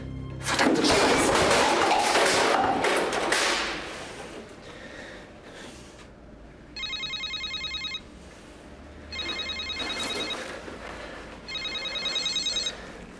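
A telephone rings in three distinct electronic trill bursts at steady intervals, following a loud opening rush of noise, clear and moderately loud in an otherwise quiet room within a German crime drama.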